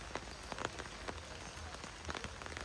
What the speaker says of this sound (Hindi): बारिश क्योंकि रुकने का नाम नहीं ले रही